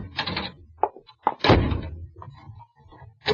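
A door shut and locked in a 1946 radio suspense drama, with a heavy thunk and latch clacks interspersed with short knocks and rattles, close and fairly loud.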